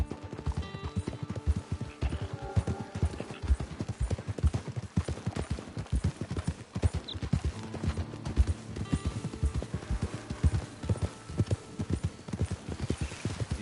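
Horse hooves clip-clop in a steady, close, loud walking rhythm from the Red Dead Online video game as a rider heads up to camp, with a faint whinny now and then.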